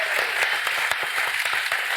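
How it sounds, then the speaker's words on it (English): Audience applause for podcast guests, a dense round of clapping with individual sharp claps standing out, fairly close and steady throughout. "Could we have a round of applause for these amazing guests?"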